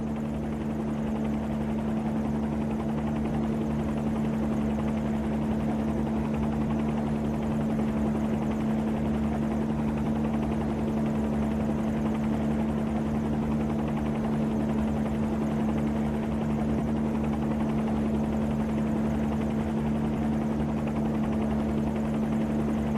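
Bell 47 helicopter in a flight simulator game, its engine and rotor droning steadily with a strong low hum and constant buzzing whine throughout as more collective is pulled.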